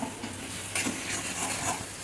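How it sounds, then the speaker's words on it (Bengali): Spices and potatoes sautéing together in a hot pan, a steady close sizzle and hiss with occasional stirring scrapes, no voices. "এবার আলুর সাথে মশলা কষানো চলছে"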